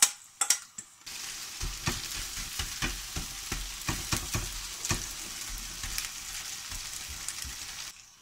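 Potatoes and onions fry in oil in a wide, flat frying pan over medium heat, giving a steady close sizzle with scattered crackles and pops and a few stirring scrapes, loudest after a brief quieter start.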